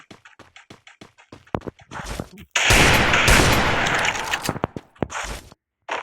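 Gunfire in a mobile shooting game with a UMP and Desert Eagle, short clicks and taps giving way to a loud sustained burst of rapid shots lasting a few seconds, then scattered single cracks.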